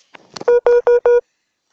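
Four steady, loud electronic phone tones in quick succession, each about a fifth of a second, after some brief scuffling; a mobile phone chiming while recording a Minecraft-style game session.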